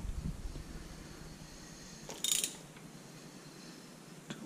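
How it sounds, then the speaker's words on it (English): A Honda CB125E crankshaft is turned slowly by hand, giving faint mechanical clicks and ratcheting sounds with one brief louder metallic rattle midway, close and quiet. "rotating the crankshaft"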